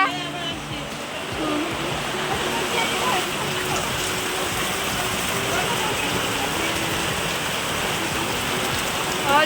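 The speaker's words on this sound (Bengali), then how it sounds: "জোরে বৃষ্টি হইতেছে" Heavy rain pours steadily in a dense, continuous hiss, drumming on surfaces nearby, with faint voices underneath.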